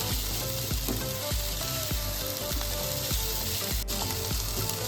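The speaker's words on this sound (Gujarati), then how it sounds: "બસ આપણે આટલું જ સાતરવાનું છે બહુ ઓવર કુક નથી કરવાનું" Vegetable stuffing for bharelo rotlo sautéing in a hot pan, a steady loud sizzle broken by regular spoon scrapes and stirring strokes roughly every half second, with no voices.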